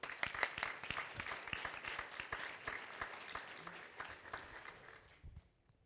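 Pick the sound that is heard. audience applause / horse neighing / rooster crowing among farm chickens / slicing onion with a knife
audience applause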